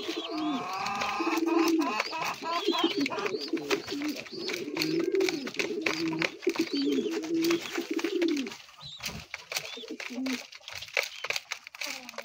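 Pigeons coo steadily in a loft, a soft, continuous chorus of low, throaty calls layered close together, with people talking over them and light rustling throughout.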